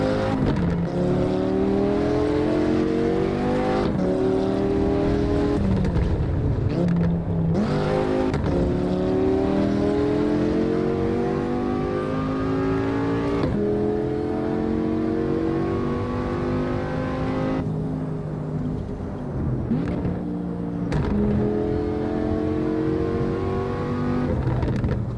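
An all-wheel-drive turbocharged car in the Assetto Corsa racing game revs hard through repeated gear changes, the engine climbing in pitch, dropping briefly at each shift and climbing again, loud and steady throughout with no talk.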